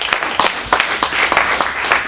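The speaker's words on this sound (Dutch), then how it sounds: "een applaus voor Esther Schreuder" Audience applause at a talk in Leiden welcoming a guest speaker, a brisk, loud clatter of many hands with distinct claps standing out, continuing evenly for a couple of seconds.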